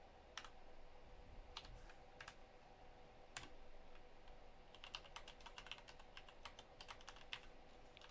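C++ code being typed on a computer keyboard makes sparse, faint key clicks early on, then a quicker burst of taps in the second half, all close and quiet with no talk.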